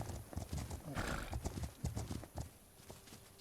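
A horse in the video game Windstorm: The Legend of Khimorii pulls up suddenly, with quick hoof clip-clops, a short whinny and snorting breaths, close and clear.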